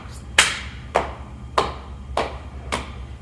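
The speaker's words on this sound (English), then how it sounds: "Then we're gonna clap." Five or six steady hand claps spaced evenly about half a second apart, close and clear, keeping time for a children's circle-time hand-motion song.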